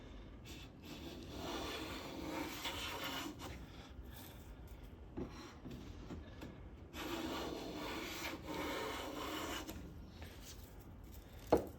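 A Lie-Nielsen No. 4 bench plane shaves wood in long, steady rasping strokes, close and moderately quiet, with short pauses between passes and a sharp tap at the end, no voices.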